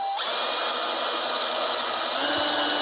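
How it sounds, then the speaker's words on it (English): Power drill boring a hole through a wooden workpiece held on a locked lathe spindle, starting abruptly and whining steadily and loudly, with a slight change in load near the end. "When I lay this out, I could drill through, make sure they line up."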